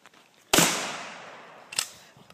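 A sawed-off 20-gauge Winchester pump shotgun fires one sharp, loud blast outdoors. A long echo decays after it, and a smaller crack or clack comes about a second later.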